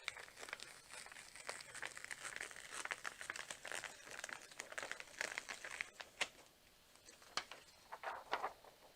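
A heat transfer sheet is peeled away from a shirt, giving close, crinkly crackling and tearing textures with scattered sharper snaps that grow more pronounced toward the end.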